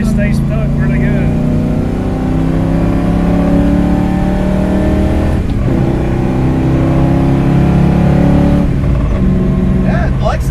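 A modified 1965 Ford Mustang engine revving hard inside the car, climbing in pitch through quick gear shifts with brief dips at each change, loud and continuous with occasional voices.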